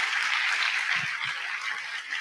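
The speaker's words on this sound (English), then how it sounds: "let's give a huge, huge round of applause for people that don't sing for the job, but sing for the passion" Audience applause at a Braver Angels convention plenary, a steady broadband wash of clapping filling the whole clip at even loudness, with no voices over it.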